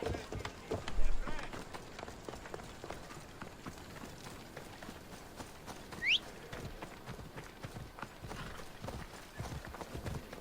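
Rapid hoofbeats of a galloping horse in Assassin's Creed Odyssey run under a steady bed of noise, with a brief high whinny-like sweep partway through.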